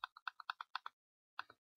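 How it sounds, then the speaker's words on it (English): Rapid clicks from a keyboard and mouse while shift-clicking items into a backpack in Minecraft, about nine crisp taps in a quick burst, a short pause, then a few more, close and dry with no talking. "you can just shift click all your items in there"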